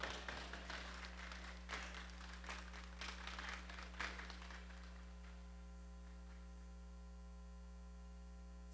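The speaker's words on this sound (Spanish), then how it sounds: "Fuerte el aplauso." A crowd applauding for about five seconds at a horse-racing trophy presentation, dense clapping that fades out, leaving a steady electrical hum underneath throughout.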